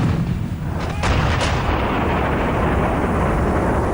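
Heavy booming Bofors howitzer blasts firing shells, a couple of sharp reports early on, over a continuous loud rumble with no talking.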